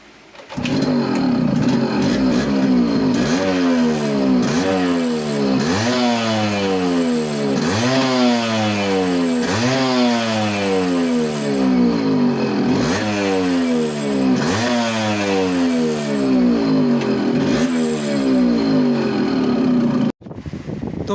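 A Yamaha RXZ motorcycle, just fitted with a new magnet coil and fresh engine oil, starts and revs hard in repeated rising and falling bursts, loud and close for about twenty seconds before cutting off.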